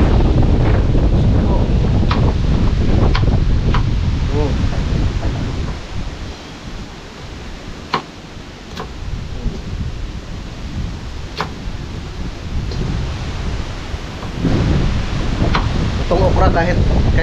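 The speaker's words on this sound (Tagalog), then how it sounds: "Lakas ng hangin." Strong wind buffets the microphone outdoors in a vegetable garden where okra and chili plants grow, a loud continuous roar with gusts that ease briefly midway before surging back, while someone talks over it.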